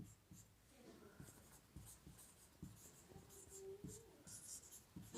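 Pen writing an answer by hand on paper during a maths lesson, close scratchy strokes and taps in irregular bursts, fairly quiet with faint room noise.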